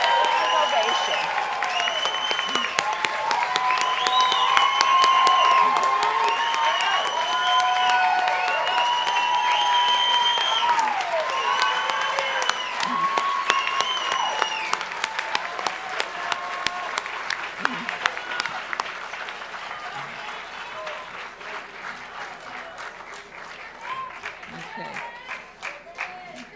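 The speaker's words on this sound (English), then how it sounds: "and let's give them another applause." Sustained standing ovation for a graduating nursing class, dense applause filling the room for most of the stretch, with many voices cheering and chattering over it before the clapping thins toward the end.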